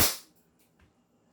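A Novritsch SSP5 competition airsoft pistol, gas powered in cold weather, fires one sharp snapping shot through a chronograph, followed by a faint click and near silence.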